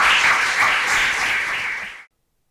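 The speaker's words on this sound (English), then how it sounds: "just give yourselves once again another a round of applause" An audience claps for teachers at an educator recognition event in Cleveland, a dense, even burst of applause lasting about two seconds before cutting off abruptly.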